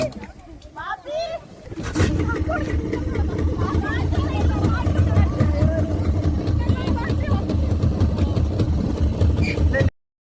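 A motorboat engine on the water at Kadmat in Lakshadweep fires up to tow a banana ride, settling into a loud, steady low rumble that runs on, with people talking over it.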